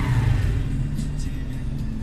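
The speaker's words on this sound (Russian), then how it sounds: "Мопедист проехал." Moped driving past on a Crimean street, the engine note swelling up close then fading as it passes, heard from inside a moving car over steady road and engine rumble.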